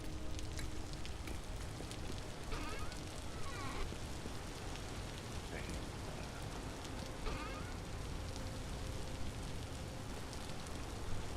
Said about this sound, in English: Rain hasn't stopped yet.